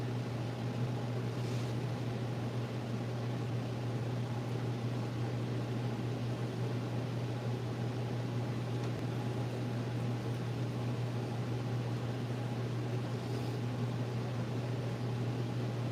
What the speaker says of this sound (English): we have to leave the air conditioner on though